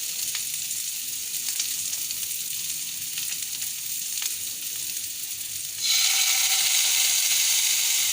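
Ginger garlic paste frying with spice-coated baby potatoes in a pan, a steady close sizzle that jumps sharply louder and brighter partway through and then holds a constant hiss, with no talking.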